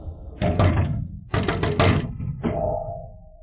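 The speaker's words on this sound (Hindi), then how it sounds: "क्या खटखटा रहे हो?" Knocking on a house door comes in three bursts of quick, solid raps, hollow thuds of knuckles on wood heard close and fairly loud with short pauses between bursts.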